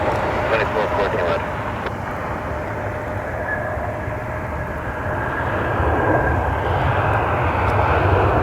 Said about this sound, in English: Our American 737 just landed from Dallas